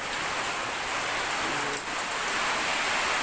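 Steady rain falling outside during a typhoon in the Philippines, a dense, even hiss with no distinct drops, fairly soft and constant.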